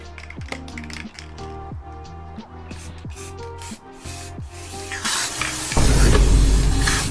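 An old Warhammer spray paint can hisses and spits paint onto a frame in uneven bursts, then surges into a loud, continuous, rushing spray near the end with no talking.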